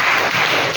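A class of students applauds a school project group, with dense steady clapping throughout a short burst, close and fairly loud.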